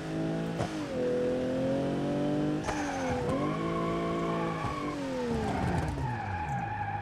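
A simulated RB26-powered Nissan 180SX drifting on a mountain road in BeamNG, its engine revving and bogging with sweeping pitch changes while the tires squeal and skid after a handbrake pull, loud and continuous.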